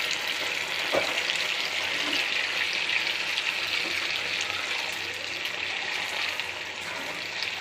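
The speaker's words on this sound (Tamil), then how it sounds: "ஒன்று ஒன்றா போட்டு பார்க்கணும் பொரித்து எடுத்துடணும்" Leftover idli pieces deep fry in hot oil in a kadai, giving a continuous bubbling sizzle at an even level throughout with a faint knock early on; no voices.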